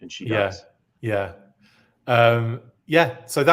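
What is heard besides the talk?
None of the usual background noises is heard.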